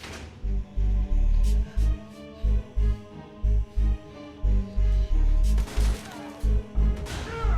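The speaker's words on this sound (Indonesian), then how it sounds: "yang berhasil meraih senjata milik Kevin sempat mencoba menembak The Beast berulang kali" Heavy booming gunshots in a film fire repeatedly in a steady rhythm, loud and close, with crashing impacts near the end.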